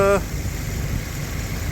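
Peugeot 206 GTI engine running steadily with a low, even rumble close by, after a brief voice at the very start.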